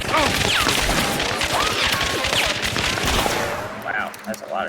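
Dense video-game gunfire from an online shooter match, rapid overlapping shots and bursts crackling almost continuously at close range, thinning near the end.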